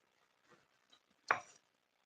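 A knife cuts a bruised section out of a rainbow trout fillet on a board. It makes one quiet, sharp chop after a few faint scrapes and taps.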